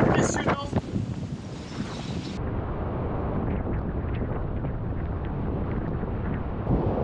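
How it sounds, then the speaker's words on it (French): Steady wind blowing near a glacier waterfall in Norway, a continuous broad rush that stays fairly loud throughout, with a brief louder, brighter gust at the start and a voice briefly audible. "On sent le vent qui pousse dans le dos."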